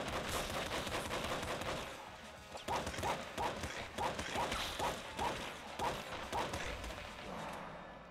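Rapid gunfire from the top-down shooter Nuclear Throne, a dense run of repeated weapon shots and impacts layered over busy game effects and music, loud and continuous with no voices.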